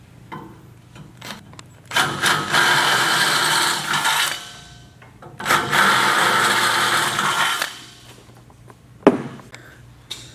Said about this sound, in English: as you go, you'll step up your drill bits until you reach 1/2 inch.